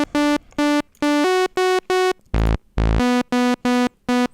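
A Moog Subsequent 37CV synthesizer on its initial patch gives a plain, buzzy tone playing short staccato notes in a choppy rhythm, with two deeper, longer notes midway; dry, clear and alone.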